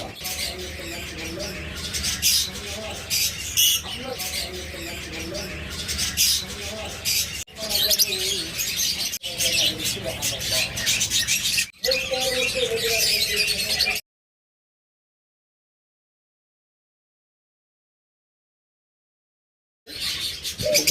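Pet birds such as lovebirds, budgerigars and cockatiels chirp and squawk continuously, a busy close chatter broken by abrupt cuts and a stretch of total silence before the calls resume.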